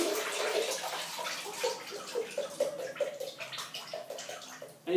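Buckwheat is rinsed in a colander under running water, a soft continuous splashing and trickling with uneven surges, fairly quiet and close, with no speech.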